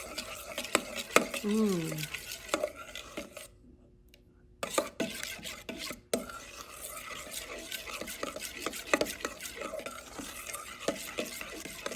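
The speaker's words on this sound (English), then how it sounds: "Now I'm going to mix it with my stainless steel mixing spoon." Liquid soap made from shampoo stirred with a stainless steel mixing spoon: rapid rhythmic scraping and swishing strokes, close up, with a brief pause midway and a short spoken exclamation near the start.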